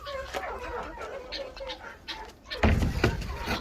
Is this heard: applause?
no